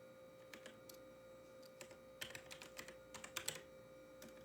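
Typing on a computer keyboard at a desk setup, a quick run of soft key clicks in uneven bursts, fairly close but quiet, with no talking.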